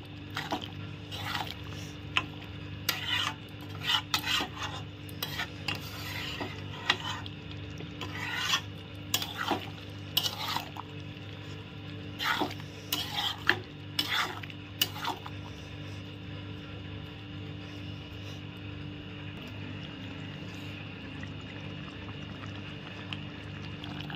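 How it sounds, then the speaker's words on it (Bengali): A goat liver and tender jackfruit curry with garam masala being stirred and turned in the pan, a series of soft scraping, squishing strokes in irregular bursts, quieter and sparser toward the end. "গরম মশলা দিয়ে আমি নেড়ে চেড়ে নিলাম"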